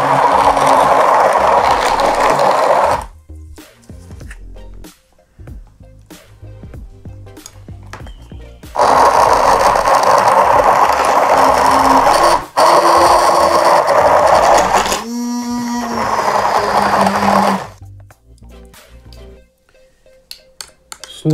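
A loud, dense grinding roar from a small immersion blender runs in bursts, cutting off between runs, with rattling and clattering as it chops dried apricots, prunes and nuts.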